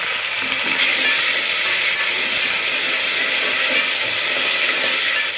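Ginger garlic paste sautés in a hot pan for vegetable biryani, giving a steady, close hissing sizzle that runs unbroken throughout without any talking.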